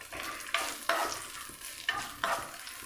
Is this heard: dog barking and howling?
no